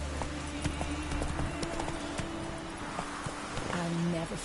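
Roach, a horse in The Witcher 3, gallops in a steady, close clip-clop of hooves beneath a speaking voice.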